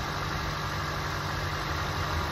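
A 2012 Acura TSX idles steadily while warming up after a coil pack and spark plug change, giving a constant, fairly loud engine hum close by with no voices.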